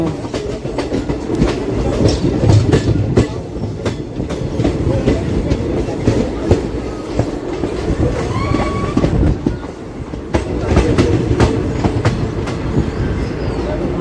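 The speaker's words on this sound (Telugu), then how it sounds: "ఇలా పట్టాలు దాటినప్పుడు సౌండ్ వస్తుంది టక్ టక్ టక్ టక్ అని" Steady rumble of a moving DEMU train with repeated rhythmic clacks as wheels pass over rail joints, loud and close, continuing throughout.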